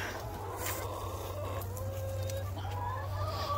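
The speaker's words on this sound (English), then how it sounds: "Chickens are mean to each other." Hens, including an old hen, cluck softly and repeatedly in a coop, with rising drawn-out calls over a steady low hum, fairly close and without speech.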